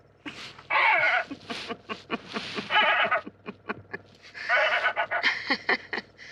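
A series of short, harsh recorded heron calls from a handheld remote noise device used at Orly Airport, several bursts in a row with brief pauses, fairly loud and close.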